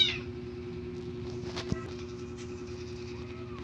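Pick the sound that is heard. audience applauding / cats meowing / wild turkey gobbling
cats meowing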